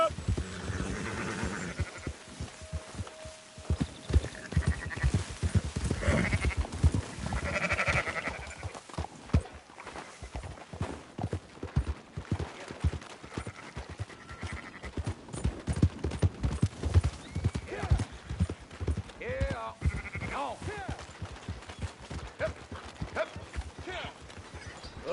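Horse hooves clip-clop through a Red Dead Redemption 2 sheep drive while sheep bleat and a horse whinnies, with a rhythmic hoof patter and scattered bleats all the way through, mixed with in-game voices.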